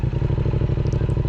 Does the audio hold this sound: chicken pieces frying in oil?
no